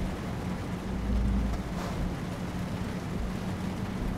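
Steady in-game rain in Euro Truck Simulator 2, a soft even hiss with a low rumbling bed underneath, faint and unchanging, no voices.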